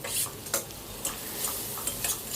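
Finely chopped garlic fries in butter alongside small prawns, a soft steady sizzle with several quick ticks and taps of a utensil against the pan.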